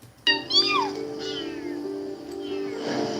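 People call out imitation cat meows to coax a runaway kitten back: several drawn-out meows in quick succession, close and fairly loud over a steady background drone, with some voices in the mix.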